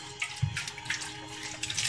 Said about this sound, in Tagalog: Practice sila ng maghugas ng pinggan, guys.